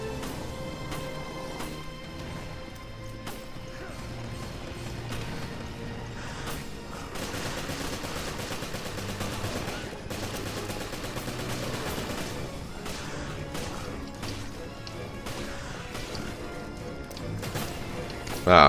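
Gunfire in Resident Evil Revelations crackles in repeated sharp bursts and single shots across a busy, moderately loud game soundscape, with intermittent voices talking over it.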